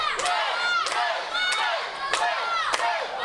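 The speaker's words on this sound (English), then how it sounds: "The crowd getting behind Will Ospreay here." A wrestling crowd roars and cheers for Will Ospreay during a tag match, loud sustained shouting with rising chant-like bursts repeating roughly every half second to second.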